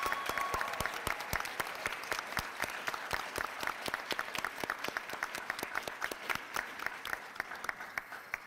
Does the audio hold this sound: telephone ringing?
no